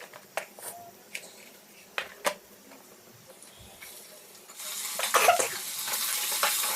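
Food sizzling in a frying pan beside coriander-tomato chutney prep, faint at first with a few sharp clicks and stirring taps, then a louder steady hiss of oil swelling in the last seconds.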